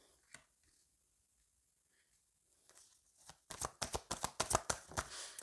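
Tarot cards being shuffled for a reading: faint soft handling at first, then a quick run of crisp riffling snaps, close and alone.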